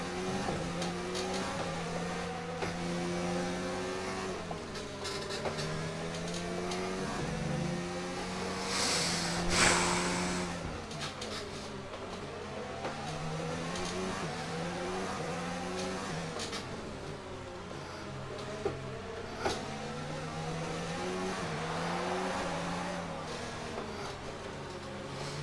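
Ferrari Formula 1 car in F1 2019 at the Hungarian circuit, high-pitched engine screaming at top speed with repeated rising gear sweeps and shifts, steady and close throughout.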